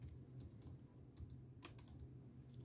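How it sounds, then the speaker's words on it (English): Soft, fast keystrokes on an HP laptop keyboard during Windows 10 setup, a steady low patter of clicks, quiet and close against a faint hum. "Just type here your name,"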